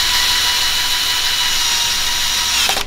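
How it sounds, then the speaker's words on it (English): A power drill whirs loudly and steadily while driving a screw through a PVC vent pipe on a Rinnai RUR tankless water heater install, then winds down abruptly at the end. "Take your drill and just drill one screw through the PVC and through the vent."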